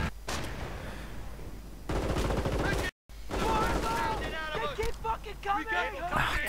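Gunfire and an aircraft strafing run in the Company of Heroes strategy game, with bursts of rapid machine-gun fire and dense shooting, loud and close, under excited commentary.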